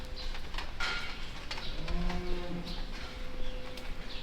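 Dairy cows low in a barn during an Arctic cold snap on a farm, with a few drawn-out moos rising over steady barn noise and occasional soft bird coos.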